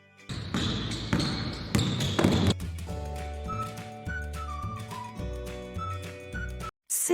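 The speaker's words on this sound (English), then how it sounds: "Ball." A ball bounces several times over a backing of steady music, the thumps fairly close and evenly spaced before the tune carries on alone.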